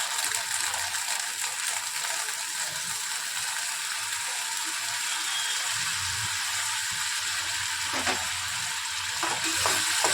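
A spicy snack fries with tomato sauce and soy sauce in a pan, giving a steady, dense sizzle throughout with scraping stirring sounds close by, and louder scrapes near the end.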